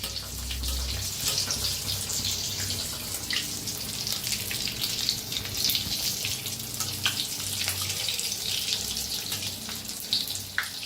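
Vada for vada pav frying in hot oil, a steady dense crackle and hiss running throughout at close range, with brief low thumps now and then and no talking.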